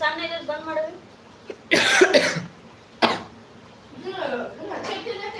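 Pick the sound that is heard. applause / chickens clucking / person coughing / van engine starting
person coughing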